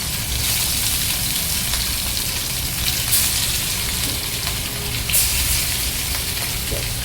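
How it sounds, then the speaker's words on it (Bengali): Rohu fish pieces shallow-frying in oil in a pan, a steady dense sizzle running throughout with a couple of brief louder crackles, close and alone without speech. "প্যানে তেল দিয়ে মাছগুলোকে আমি এপিট এপিট করে হালকা করে ভেজে নিচ্ছি"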